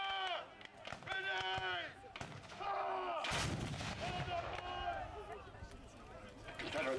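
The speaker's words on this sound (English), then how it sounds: "Confederate guns all firing together there" Confederate artillery guns fire together at an American Civil War reenactment, a loud burst of booming blasts that dominates midway amid crowd noise and overlapping voices, with sheep-like bleats and talk before and after.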